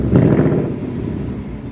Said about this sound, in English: Now that you heard that little bit of an exhaust